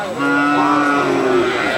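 A local native cow at a cattle market lets out a long, loud, drawn-out moo that fills the whole clip, close by.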